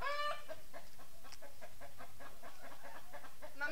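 Hens clucking steadily in a farmyard, a dense run of short repeated clucks and calls from several birds close by, with no talk over them.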